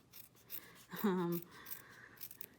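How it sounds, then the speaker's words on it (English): Scissors trim a fabric patch in a few quiet snips, with the sharpest cut near the middle, set against low room noise. "I trim it with scissors."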